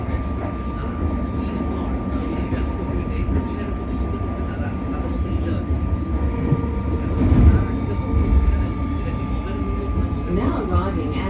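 A Comeng metro train running an East Pakenham service gives a continuous close rumble of wheels on rails with a thin steady whine, swelling briefly near the end.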